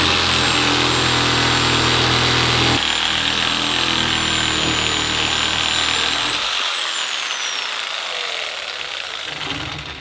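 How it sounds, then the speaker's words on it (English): A power tool cuts through thick chunks of aluminum while clearancing a Subaru swing arm for new wheels, a loud, steady grinding whine that runs continuously before easing off toward the end. "cutting off big old chunks of aluminum, which you just saw me trying to do"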